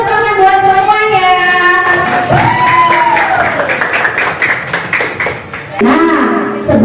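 Audience applause at a school academic supervision coaching session, clapping mixed with musical tones and a voice over the top, moderately loud throughout.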